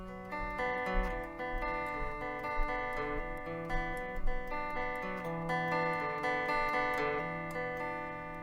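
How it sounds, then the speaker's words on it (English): A clean electric guitar plays the intro to a rock song: a quiet, steady run of picked, sustained notes that ring over one another, heard alone with no voice. "it's a clean guitar tone,"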